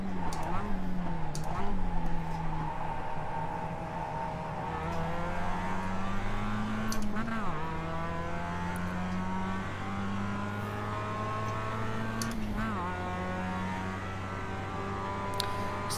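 Race car engine in the iRacing sim, drifting under a controller, held at steady high revs with repeated pitch dips and surges as the car slides; loud and continuous throughout, with a voice talking over it.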